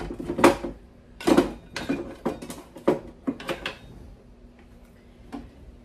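Metal serving spatulas and tongs handled while a kitchen drawer is organized: several close, irregular clattering knocks and clinks that thin out to a few faint taps.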